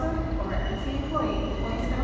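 Steady low rumble of a train rolling along the tracks, a continuous rail noise filling the background, with voices faintly mixed in.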